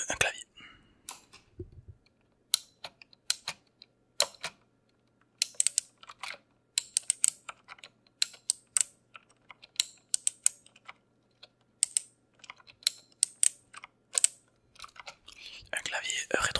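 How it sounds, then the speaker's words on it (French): Close, crisp typing on a backlit gaming PC keyboard in irregular bursts of clicks, with quiet pauses between and soft whispery French speech near the start and end. "Un clavier rétroéclairé."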